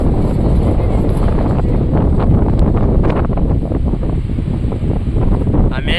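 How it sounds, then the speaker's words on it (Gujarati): Strong coastal wind at Diu buffets the microphone in a loud, continuous roar of low rumble and gusts, with no clear speech. "આ પવન બહુ છે એટલે થોડોક બોલવામાં પ્રોબ્લેમ આવે છે"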